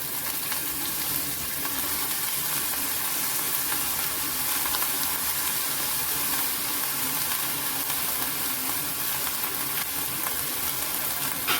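Chickpea leaves sizzle steadily in a hot garlic and green chili tempering, a continuous dense frying crackle with light stirring throughout, close and even in level, with no talking.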